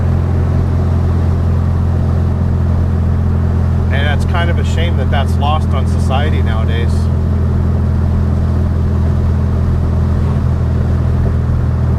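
A 1967 VW Beetle engine drones in a loud, constant low rumble while the car drives, with someone speaking briefly over it midway.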